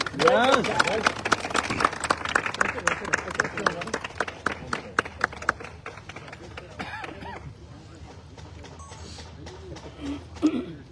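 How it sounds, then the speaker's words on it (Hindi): Audience applause for Vikas sir at an AWPL network marketing achievers' gathering: dense, loud clapping for about six seconds with voices over it, then thinning to scattered claps and talk. "मैं चाहूंगा आप सबके तालियों के साथ जोरदार तालियां विकास सर के लिए दो ना"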